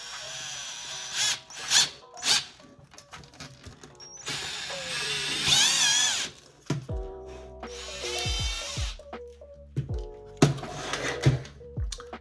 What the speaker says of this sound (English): let's go ahead and get drilling